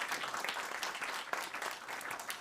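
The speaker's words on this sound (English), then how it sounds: "Big round of applause for Slaviša" Audience applause at a session of the EUSAIR Forum in a conference room, a fairly faint, even patter of many hands clapping, continuous through the whole stretch with a slightly sharper clap near the middle.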